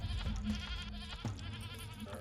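Goat bleating in the Sally Face video game, a short wavering animal cry sounding close over a steady background hum, heard alone without talk.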